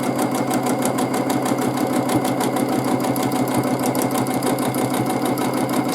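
A sewing machine runs steadily while free-motion quilting a meandering ribbon pattern, making a loud, close, continuous whirring drone with rapid regular needle pulses and no pauses.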